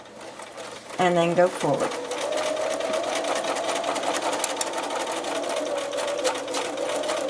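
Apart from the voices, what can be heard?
sewing machine stitching quilt binding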